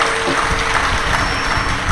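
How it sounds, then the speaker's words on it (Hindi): Audience at a Shiv Mahapuran katha during a Guru Purnima festival in Sehore applauds to welcome guests, with dense, loud, sustained clapping filling the whole moment. "एक बार जोरदार ताली बजाकर इनके लिए स्वागत"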